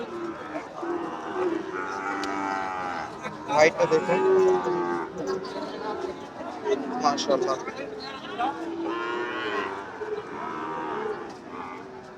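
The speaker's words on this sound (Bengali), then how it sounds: "যথেষ্ট বড় বড় গরু" Several cattle, including large Sahiwal bulls and calves, moo loudly and repeatedly amid a busy livestock market, with people talking and a crowd murmuring throughout.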